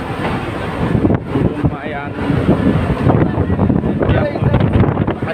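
Strong wind rushes across deck 7 of a passenger ship, a steady roaring buffet on the microphone as someone speaks over it.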